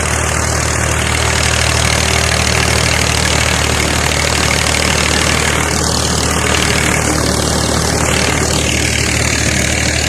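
A large tractor engine idles steadily in a wheat field at sowing time, a loud constant low drone with no pauses and no voices.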